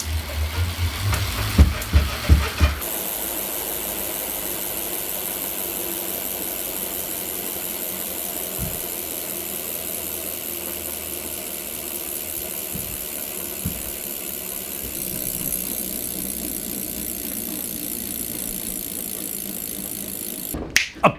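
A Shimano bicycle hub's freewheel ratchet clicks in a rapid, steady buzz of ticks that runs unbroken for many seconds, with a few louder knocks at the start and end.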